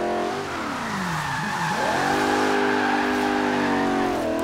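Porsche 928 GTS in Forza Horizon 3 drifting after a clutch kick, its engine note sweeping down and then surging back up into a steady, loud high-revving drone with tire squeal, heard up close with no talking.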